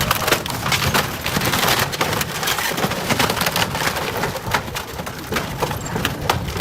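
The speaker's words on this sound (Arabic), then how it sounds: "بسبب غلطة في حسابات قبطان اليخت حصل تصادم قوي اتسبب في تكسير الرصيف بالكامل." A yacht crashes into a dock, with continuous loud cracking and splintering wood, dense irregular snaps and crunches layered over a rumbling, noisy background.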